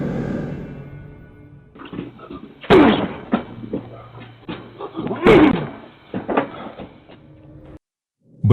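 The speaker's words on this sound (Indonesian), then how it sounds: "Berulang kali pria itu membenturkan tubuhnya ke pintu depan sebuah rumah." A man rams his body against a house's front door, giving two heavy, booming thuds a few seconds apart with smaller knocks and rattles between them.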